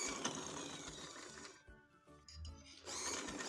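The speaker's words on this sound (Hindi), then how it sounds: "अब ये लास्टिक लगाते हुए फुल टांका करना है, टांका बड़ा करके" A sewing machine stitches elastic onto a capri with long stitches, running steadily and loud, pausing briefly midway to a quieter low hum with light clicks, then resuming at full speed; no one talks.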